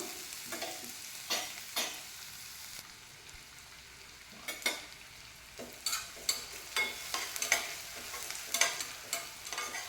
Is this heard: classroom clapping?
no